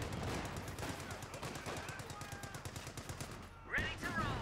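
Dense rapid machine-gun and rifle fire rattles continuously from infantry squads in a Company of Heroes 2 battle, loud and sustained for several seconds before breaking off, followed by a short burst of other sound.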